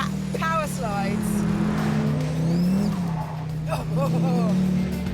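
A D8 sports car accelerates hard through a chicane with its tail sliding. A loud engine drone rises and falls through the gears while repeated tyre squeals chirp over it, and a voice talks alongside.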